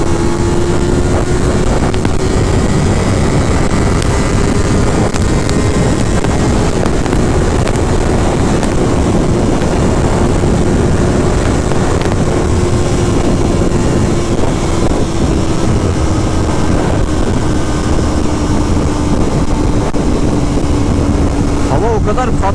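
Steady, loud wind rushes across the microphone while riding a Yamaha R25 motorcycle along a coastal road, with a low engine hum running underneath for the whole stretch.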